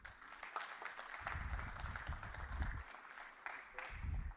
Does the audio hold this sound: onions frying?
no